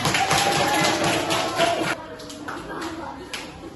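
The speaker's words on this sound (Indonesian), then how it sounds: "tepuk tangan buat temannya, tepuk tangan" Classroom pupils clap for a classmate, a dense burst of hand claps for about two seconds that thins into scattered claps and shuffling, with children's voices mixed in.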